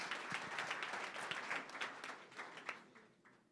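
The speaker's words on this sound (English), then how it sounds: "let's give a big round of applause for all of these things that happen here" A modest audience at a startup community event claps steadily, individual hand claps audible within the applause, which gradually thins and fades toward the end.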